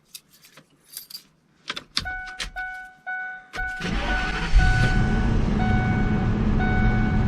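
A car whose battery was recharged and jump-started: key jangles and clicks, then repeating dashboard chimes, before the engine catches and settles into a steady, loud run that carries on to the end.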